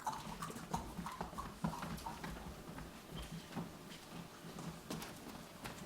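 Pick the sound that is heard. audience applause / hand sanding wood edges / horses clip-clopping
horses clip-clopping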